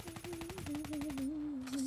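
Rapid automatic gunfire in the Call of Duty Black Ops III beta on PC, a quick rhythmic burst of shots over a steady droning game tone, fairly quiet and lasting under two seconds.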